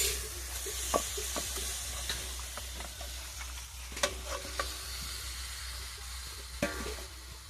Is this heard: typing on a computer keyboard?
no